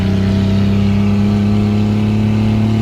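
An abandoned car's engine, left sitting for 15 years, revs at half throttle with a steady, loud, close drone that holds an even pitch throughout.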